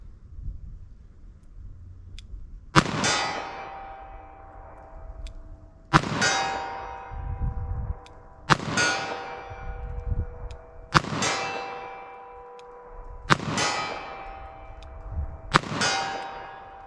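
Six sharp gunshots from a .38 Special revolver firing lead semi-wadcutter rounds, spaced a few seconds apart. Each crack is followed by the ringing clang of a steel target hit at 40 yards, which fades slowly.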